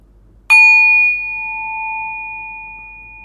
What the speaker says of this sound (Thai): ฟังเสียงระฆังที่เบสจนเงียบลง